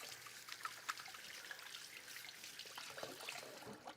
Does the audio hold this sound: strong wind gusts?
no